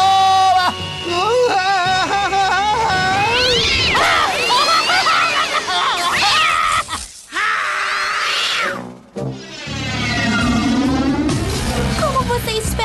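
High, wavering cartoon-style kitten meows from the animated series Robotboy repeat across a busy, loud mix of music and voices, with a brief dropout partway through.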